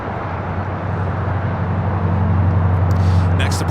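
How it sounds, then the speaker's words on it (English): Spirit Airlines Airbus A320 departing Los Angeles International Airport, a steady low jet engine roar that builds slightly over the few seconds, heard from a distance with continuous broadband rumble. "Departure is Spirit Airlines Flight 472 heading to Memphis in an A320"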